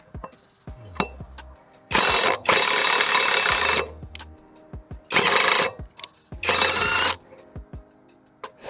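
A SEESII WH700 650Nm impact wrench fitted with a 19 mm socket fires in four loud, close bursts of rapid hammering, each lasting about a second, separated by quiet gaps with small clicks and handling noises.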